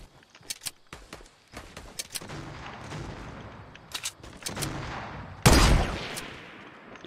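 Fortnite Battle Royale gunfire cracks out in scattered sharp shots and short bursts, some near and some farther off, building to one loud close blast near the end.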